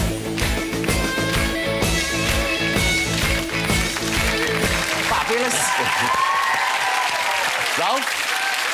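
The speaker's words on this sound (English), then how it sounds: "look, they're all clapping" Studio audience clapping along to a Christmas song on a TV chat show, rhythmic claps over music with singing, then the music drops away and talk continues over scattered clapping.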